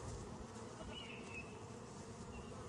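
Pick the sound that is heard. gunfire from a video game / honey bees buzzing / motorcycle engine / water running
honey bees buzzing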